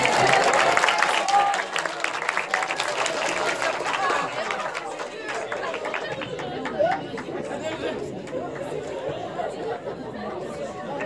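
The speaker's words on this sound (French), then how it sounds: "vous pouvez vous applaudir aussi" Middle-school students in a hall clap for themselves, the applause strongest at first and thinning into loud crowd chatter and murmuring voices.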